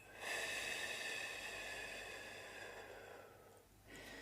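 A single deep, slow exhale through the nose during a calming breathing exercise, soft and close, tapering off before a brief fresh intake of breath.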